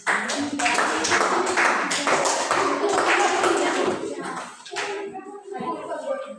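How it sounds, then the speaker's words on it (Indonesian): Applause in a classroom for a student group after a presentation, dense clapping with some taps for about four seconds, then thinning into scattered claps and faint children's voices. "kita berikan tepuk tangan"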